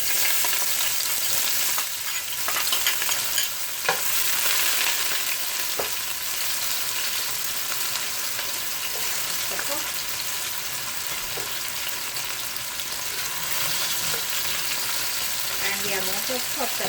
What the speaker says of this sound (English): I will add the onion and the hot pepper. So the onion going in now.